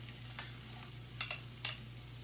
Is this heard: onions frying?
yes